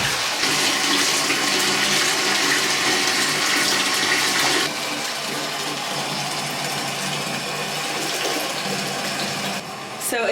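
Water gushes from a tap into a bathtub, a loud continuous rushing splash that softens slightly partway through as the flow changes, then dips near the end.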